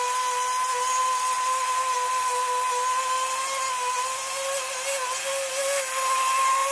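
A small battery-powered motor in a homemade mini ultrasonic cleaner whines steadily and high-pitched for several seconds, close and moderately loud, with only slight wavering in pitch and no talking.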